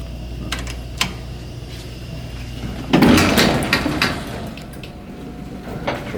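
Original doors of an OTIS Lexan hydraulic elevator at the Pioneer Financial Center in San Jose, California, slide with a rumbling whoosh lasting about two seconds. Scattered clicks and a steady low hum from the car run before and after it.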